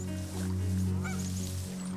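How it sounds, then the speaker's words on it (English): Geese honk loudly nearby, several overlapping calls in a short noisy burst. "She scares the geese away for good."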